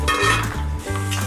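Batter-coated sweet corn fries in hot oil in a pan, with sizzling and crackling plus a few scraping stirs and clinks of utensil against the pan, close and fairly loud, with no voices.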